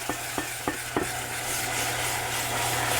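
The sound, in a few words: stirring beer into a flour roux in a pan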